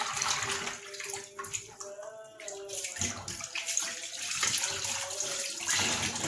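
Water pours and splashes close by while chicken is being rinsed in a home kitchen, an uneven gushing stream with bubbling and gurgling, heard alone without any voices.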